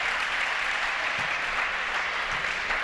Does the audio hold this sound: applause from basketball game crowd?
yes